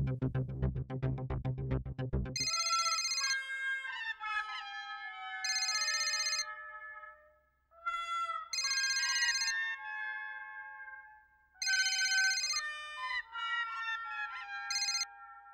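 A melodic electronic ringtone plays repeatedly in bright chiming phrases, preceded by a short buzzy rattling tone.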